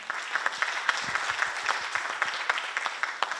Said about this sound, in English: please join me in giving Dr. Dupuis a warm round of applause.